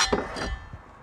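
A pan being handled beside a flat top grill and campfire wood stove, giving a couple of quick close metallic clinks and knocks, brief and moderately loud, no talk.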